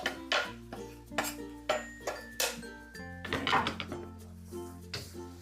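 Anchovy fried rice ingredients are stirred in a pan with a metal utensil, giving repeated close clanks and scrapes in an uneven rhythm, with musical tones underneath.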